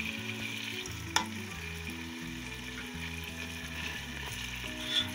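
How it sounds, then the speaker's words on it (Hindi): Mixed vegetables with green chillies fry and get stirred in a pan, making a continuous sizzle with scraping stir sounds and an occasional clink, under steady background music and without talk. "मिक्स करूंगी।"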